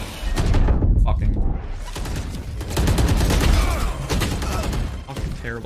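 Rapid gunfire from the video game Valorant crackles in dense, overlapping bursts at a steady loud level, with a player's voice talking over the shooting.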